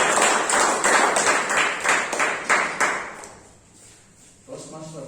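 An audience at a Toastmasters meeting breaks into applause welcoming a speaker, with rapid hand claps for about three seconds before dying away, and a voice begins speaking just after.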